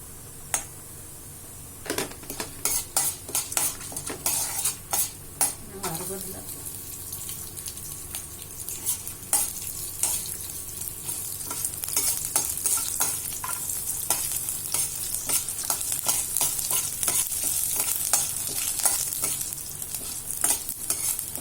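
Garlic sizzles and fries in a pan, with repeated scraping stirs and clinks of a utensil against the metal, close and steady over the whole stretch.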